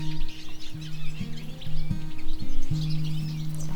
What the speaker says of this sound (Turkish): Akşamki sessizliğin aksine güneşin doğuşuyla birlikte bütün kuşlar cıvıldamaya başladı.